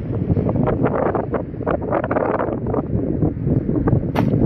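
Strong wind buffets a microphone on a bass boat, a loud, continuous roaring rumble with gusty surges throughout and no talking.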